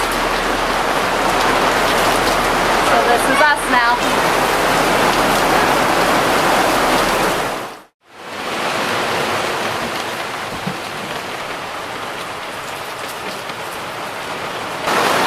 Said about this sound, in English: Well, the rain has started. It's not supposed to stop for 2 days.